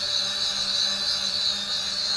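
A small FPV camera quadcopter drone with removable arms flies nearby, its rotors giving a steady high-pitched buzzing whine with slight wavering throughout.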